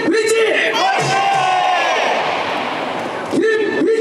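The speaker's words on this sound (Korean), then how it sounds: "선수가 파이팅 받을 수 있도록 힘차게 외쳐봅시다." A loud baseball crowd at an NC Dinos game bellows a unison cheer for a player. Voices swell in a sustained rallying shout, dip briefly, then surge again near the end.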